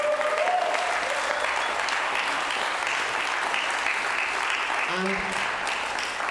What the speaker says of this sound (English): can we give the Migration Matters team a round of applause